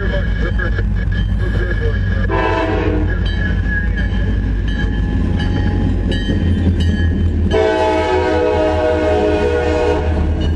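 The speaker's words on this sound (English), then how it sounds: "FRA test train." An FRA test train on the CSX Berkshire Subdivision at Chatham, New York passes close with a loud continuous rumble of rail noise, its horn sounding in long blasts, while people talk nearby.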